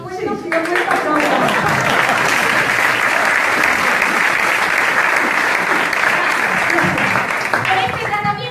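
An audience at an assembly applauds loudly and continuously, dense clapping that holds steady for several seconds and fades slightly at the close.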